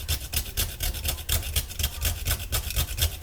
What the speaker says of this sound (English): So I just grate it in with a little, actually I usually use this side, with a little mini grater.